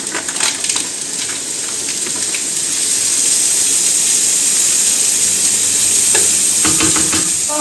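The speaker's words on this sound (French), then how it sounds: "On va faire venir les lardons. Voilà, jusqu'à ce qu'ils soient bien grillés." Lardons frying in a pan for carbonara give a loud, steady sizzle close by, with a few scraping and stirring clinks at the start and again near the end.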